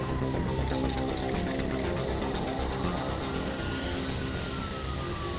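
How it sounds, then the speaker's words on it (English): Police sirens wail in The Warriors video game, a wavering tone rising and falling over a dense, steady bed of game noise and clatter, continuous through the stretch without talk. "I hear the sirens."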